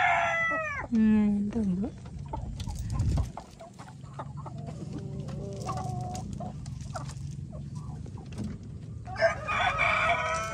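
A hen that has been traumatized by roosters clucks and calls in a farmyard, with other birds and a rooster crow mixed in, close and fairly loud, while people talk nearby.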